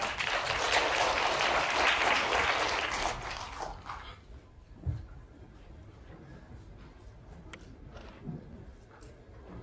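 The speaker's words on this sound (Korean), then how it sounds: "큰 박수 부탁드립니다." An audience at a work-innovation forum applauds loudly for about three seconds, then the clapping fades out into a quiet room with a few scattered sounds.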